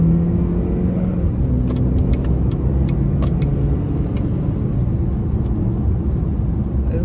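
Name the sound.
Chevrolet Impala car driving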